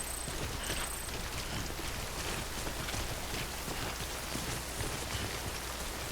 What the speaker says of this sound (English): Because the rain here can corrode